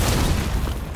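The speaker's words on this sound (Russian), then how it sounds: "Взрывчатку заложил." A planted explosive charge detonates in a tactical shooter video game, a loud, deep boom that fills the whole second-long burst and rumbles on without a clear ending.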